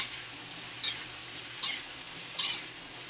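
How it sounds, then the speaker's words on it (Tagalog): Pakbet vegetables sizzle steadily in a hot pan, with three distinct scraping bursts of stirring at roughly regular intervals over the constant frying hiss. "Haluin muna natin"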